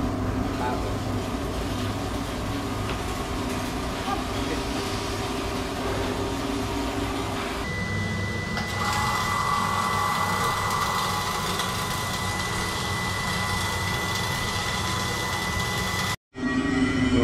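Arc welding a capping layer on steel: a steady, dense hissing crackle runs unbroken at close range, with a slight shift in tone partway through, before cutting off abruptly near the end.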